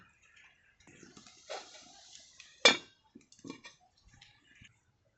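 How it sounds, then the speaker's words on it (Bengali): A pot of sour-spicy crab curry is stirred and then covered. Sparse metallic clinks and scrapes come first, then one sharp lid clank and a few lighter taps, close and quiet between sounds. "এবার ভালো করে নাড়াচাড়া করে ঢেকে দেবো"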